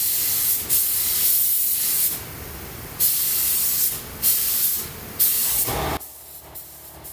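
A spray gun lays base coat paint onto Peterbilt 359 truck parts in a workshop, giving loud close hissing bursts of about one to two seconds, separated by brief pauses and ending in several shorter puffs, with no voices.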